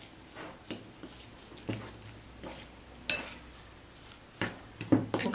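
A spoon clinks and scrapes against a bowl in a series of separate, fairly faint taps as boiled potatoes are mashed and mixed with butter, salt and pepper powder.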